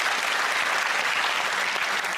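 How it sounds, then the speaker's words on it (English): Studio audience at a comedy quiz show breaks into steady, dense applause, loud and continuous throughout with no talking over it. "give her a round of applause."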